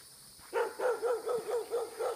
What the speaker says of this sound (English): They heard the dog barking.